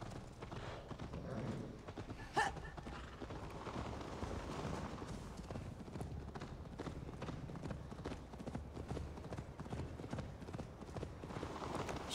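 Rapid, steady hoofbeats of a horse galloping in the video game Assassin's Creed Valhalla, faint and continuous throughout, with one sharp impact early on.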